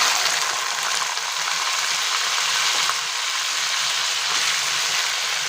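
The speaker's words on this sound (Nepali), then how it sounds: "अब मासु राख्छु।" Chicken meat sizzles and crackles in hot oil with fenugreek, cumin and coriander seeds, a steady dense frying hiss that runs continuously with faint stirring knocks and no talk.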